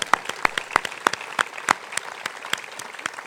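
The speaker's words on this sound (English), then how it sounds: "let's clap for all the people who came." Scattered hand clapping from a small audience at a meditation talk, sharp individual claps in an uneven rhythm, fairly close and continuing throughout without talk.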